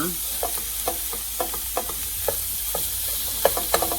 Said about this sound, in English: it'll probably take, I don't know, maybe 10 minutes to brown this. As soon as I get this ground beef broken up here